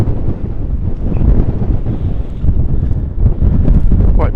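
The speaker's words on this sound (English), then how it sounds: "Quite breezy over here." Breezy coastal wind buffets the microphone on an island shoreline near surf, a loud, continuous roar with gusty swells and little else audible.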